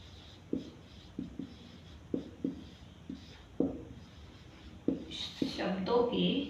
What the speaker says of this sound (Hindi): मैं लिख देती हूं यहाँ पे